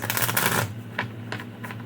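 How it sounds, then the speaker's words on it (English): A dense burst of tarot card shuffling, a rapid papery riffle up close, followed by a few softer taps and flicks of the tarot cards being squared. "one more shuffle"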